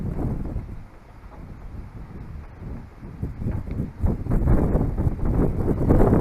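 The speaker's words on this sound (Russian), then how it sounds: "Сильный ветер." Strong wind after a heavy August rain in Odessa roars and buffets the microphone in uneven low gusts, swelling louder toward the end.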